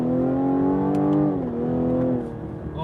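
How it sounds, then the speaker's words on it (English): A 2020 Cadillac CT5 3.0 V6 engine revs up strongly, then drops briefly as a gear shifts and pulls again, with a slightly raspy, droning tone throughout. "A little rasp on the upshift."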